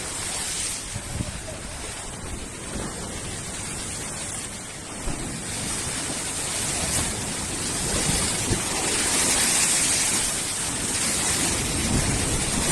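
Storm-driven sea surges and crashes ashore at Gemlik under a violent wind, a dense continuous roar of surf and gusting wind buffeting the microphone, loud and close, swelling stronger toward the end.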